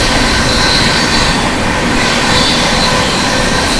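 Howrah Rajdhani Express 12301 passing on the adjacent track, a loud continuous rushing roar of wheels and wind that stays dense and steady throughout.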